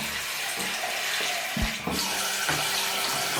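Steaming hot water from a Xiaomi Xiaoda instant water heater pours into a mug in a steady, close, hissing splash that runs unbroken, with small gurgling shifts as the stream changes.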